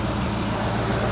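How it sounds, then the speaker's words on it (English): A car air-conditioning compressor runs with its clutch engaged in a twin-turbo 351W Ford Ranger charged with R134a, a steady, even mechanical drone under a low engine hum, heard alone. "Right now, you can see the compressor clutch is engaged, the compressor is spinning."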